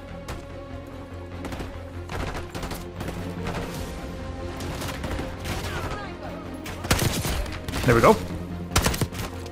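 Gunfire crackles through a Call of Duty Black Ops 6 firefight, with repeated sharp bursts and shots spread across the clip, building to a louder cluster near the end, while a player speaks briefly over it.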